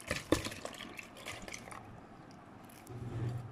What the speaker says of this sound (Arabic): نزلنا اللبن كله